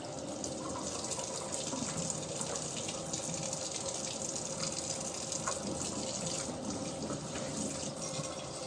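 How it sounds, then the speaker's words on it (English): Hot tap water runs steadily into a sink while dishes are rinsed, a continuous close splashing gush that stays fairly quiet and even throughout, with no talking. "I like to use hot water and rinse it out once"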